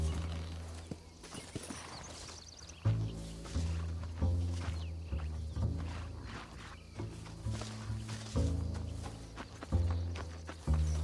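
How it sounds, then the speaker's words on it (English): Horse hooves clip-clop steadily in Red Dead Redemption while riders travel, with occasional snorts and whinnies and a low musical score underneath. "Leave your horse here."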